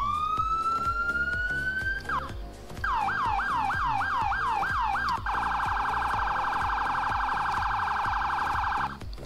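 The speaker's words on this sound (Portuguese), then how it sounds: "Você apertando J vai vir três sirenes" Three police siren patterns from a GTA San Andreas police mod play in turn, a rising wail, then a fast yelp, then a rapid warble, loud and close with a faint background rumble.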